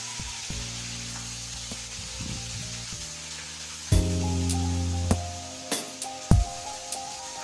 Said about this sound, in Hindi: चिकन डाला, दो मिनट के लिए फ्राई किया,